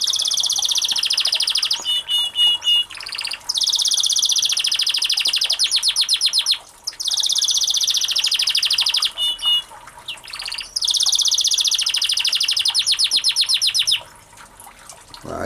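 Caged aviary birds sing loudly and close by, with dense high trilling and chirping phrases repeating in long bursts separated by brief pauses.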